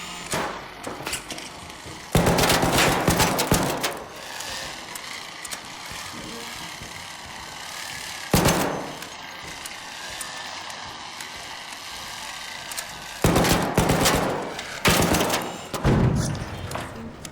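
Gunfire from a slow-reloading weapon in an online raider shooter game comes in three loud bursts with gaps between them, while a player's voice talks over the quieter stretches.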